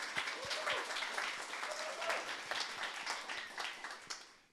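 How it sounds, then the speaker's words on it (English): An audience at a tech pitch event applauds steadily for several seconds. The clapping is dense and moderately distant, with some voices murmuring beneath it as it fades at the end. "let's give both a round of applause and welcome Scott up to the stage"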